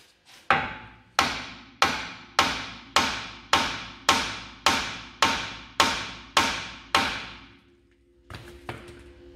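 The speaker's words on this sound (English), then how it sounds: "we're going to hit it there now, now that the nut is back on" A hammer strikes a nut threaded back onto the hub of a 1975 Corvette Stingray during lower ball joint replacement: about eleven sharp metallic blows at a steady, even rhythm, loud and close, each ringing briefly before the next.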